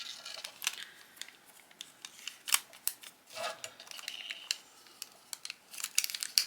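Small scissors trim material while making a Peeps treat for an American Girl doll, producing a series of quiet, irregular snips and crinkles close by with no talking.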